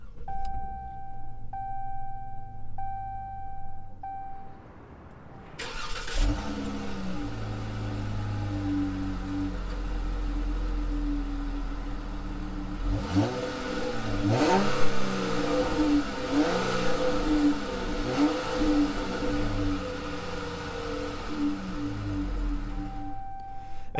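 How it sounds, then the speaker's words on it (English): A 2021 Dodge Charger SXT with a V6 is push-started after a chime, then idles and is revved in several rising, falling sweeps, loud and close; no talking. "And that's the startup. It sounds pretty good for a 6-cylinder."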